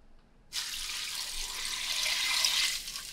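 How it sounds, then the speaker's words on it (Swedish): Water pours from a tap into a stockpot holding roasted bones and vegetables for making stock, a steady rushing splash that starts abruptly and builds slightly in fullness. "Och nu är det bara sista ingrediensen. Vatten."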